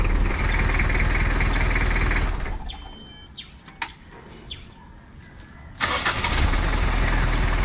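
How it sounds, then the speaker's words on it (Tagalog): A car engine runs loudly nearby, then cuts off. Small clicks and taps follow in the quieter gap before the starter motor fires it back to life in one quick start and it settles into a loud idle again. "one click lang. Ibig sabihin, maganda pa yung ating starter."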